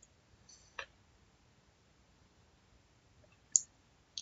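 A few sharp computer mouse clicks, spaced apart with quiet between them, while working in a PowerApps form editor; no talking.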